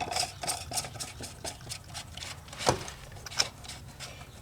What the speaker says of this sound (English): Get it on as tight as we can by hand.